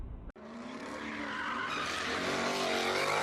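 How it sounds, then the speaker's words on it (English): A supercar skids through donuts, its tires squealing in a loud, sustained screech that builds after a brief cutoff and then holds steady at close range. "If you want to get an adrenaline rush doing donuts with your supercar, do it in a place specially set up for it."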